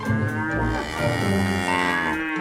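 Water buffalo lowing in a cattle shed, a loud, sustained moo with rich harmonics filling the whole moment, close and alone with no talk.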